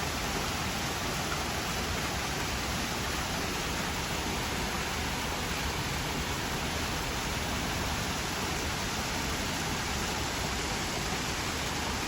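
Steady broadband roar of a waterfall inside a butterfly rainforest enclosure, a continuous even rush of falling water that stays loud and unbroken throughout, with no voices.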